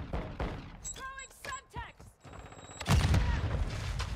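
A grenade explodes during a Call of Duty: Modern Warfare II match, a sudden loud boom near the end after a stretch of game gunfire and effects, with the blast rumbling on to the finish.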